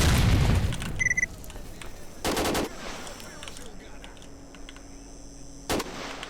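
Grenade blast and gunfire in the S.T.A.L.K.E.R. shooter game (OGSE Shadow of Chernobyl mod): a loud, booming burst opens, then a short second blast and a later sharp shot ring out over a low ambient hum.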